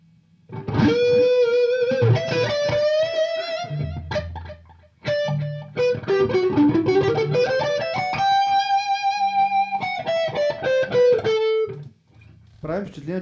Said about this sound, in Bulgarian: Включих и ехото.